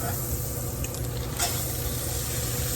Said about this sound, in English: So I've got my cast iron heated. I've got some butter in here.